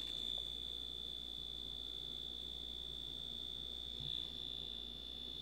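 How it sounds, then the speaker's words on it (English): The buzzer of a Dash egg cooker, muffled to be quieter, sounds as one steady, thin high tone that holds evenly over a low background hum throughout. "So you still get your buzzer. It's just nowhere near as loud."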